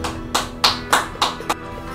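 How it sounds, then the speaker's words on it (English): A man claps his hands five times in slow, evenly spaced, sharp claps over a steady low hum, close and fairly loud, with no talk. "The man is clapping at the slime man"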